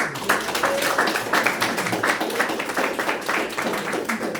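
Audience clapping at a sales or motivational meeting, a dense run of many hands striking at once, loud and steady throughout with a few louder bursts.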